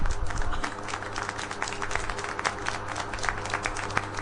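In the Syberia video game, a dense burst of applause fills the scene, continuous clapping that holds steady throughout without voices.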